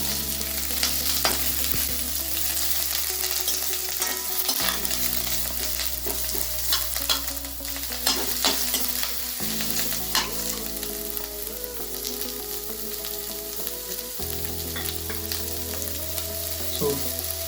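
Onion and chili fry in a pan, giving a constant close sizzle broken by stirring scrapes, with steady background music underneath.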